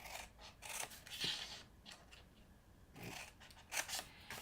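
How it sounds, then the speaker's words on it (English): Scissors snip through cardstock along score lines while a ribbon sampler box is being made, several separate close cuts in short bursts with quiet pauses between them. "I'm going to cut down to the second score line on each of these score lines"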